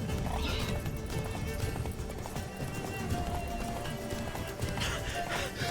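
Roach the horse in The Witcher 3 gallops with steady, loud hoofbeats and a whinny, set under continuous game music and ambient noise.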